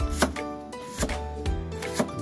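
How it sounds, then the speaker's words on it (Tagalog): A knife chops banana heart (puso ng saging) into thin slices on a board, giving steady, close, evenly spaced cutting knocks about twice per second, with no talking. "Yan, hiwain ko na po ang puso."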